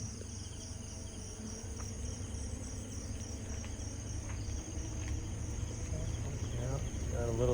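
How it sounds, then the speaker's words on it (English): Crickets chirp steadily through a warm night on a hillside drive down from Grace Hill in the Philippines, a dense continuous trill over a low vehicle rumble, with faint voices now and then. "Yeah, you can hear the crickets."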